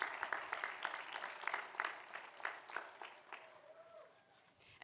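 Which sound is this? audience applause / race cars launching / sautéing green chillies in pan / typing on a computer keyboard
audience applause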